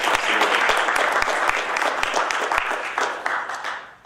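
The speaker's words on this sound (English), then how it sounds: "Definitely a round of applause is needed." An audience gives a round of applause at a live talk show, a dense burst of many hands clapping that starts at once and fades away over about four seconds.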